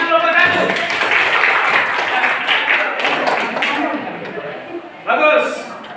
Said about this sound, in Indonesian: Coba tepuk tangan kelompok 1.